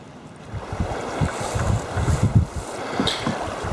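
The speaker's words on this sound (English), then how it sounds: "all I can hear is the wind and the waves" Wind gusts and small waves lap around a canoe in the middle of a lake on the Allagash Waterway, a rough, rumbling wash with buffeting against the microphone.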